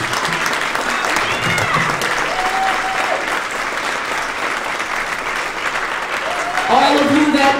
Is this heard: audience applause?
yes